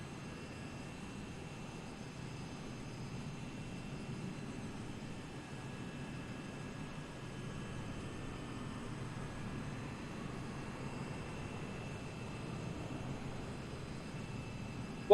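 An F-16 jet lands in a flight simulator at Naval Air Station Joint Reserve Base New Orleans, its engine a faint, steady broadband drone with no voices.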